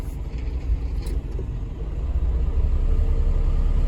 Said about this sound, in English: Let's park the car.